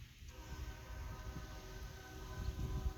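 Westbound CSX intermodal freight train at Deshler, Ohio, giving a steady low rumbling roar with a faint sustained horn-like tone, building slightly louder toward the end.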